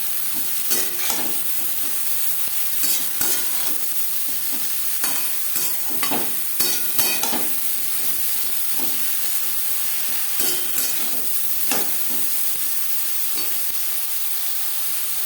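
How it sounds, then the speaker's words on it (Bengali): Eggplant fried with onion and green chillies sizzles steadily while a spatula stirs and scrapes the pan in repeated bursts, close and fairly loud. "ভাজা পেঁয়াজ ও কাঁচা লঙ্কার সাথে বেগুন বেশ ভালো করে মিক্স করে দেবো"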